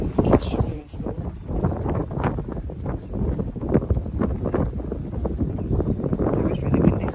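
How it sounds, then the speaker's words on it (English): Strong wind buffets the microphone on an outdoor stretch of Lanzarote, a continuous loud roaring rumble with gusty surges throughout and no clear voice above it. "It was really windy, so you can't hear me."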